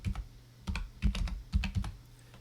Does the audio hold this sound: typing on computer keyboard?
yes